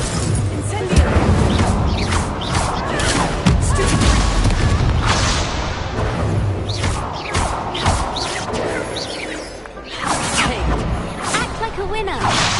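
Spell effects cast during combat in Hogwarts Legacy, including the Incendio fire spell, a dense run of booms, crashes and whooshes with game music and character voices throughout.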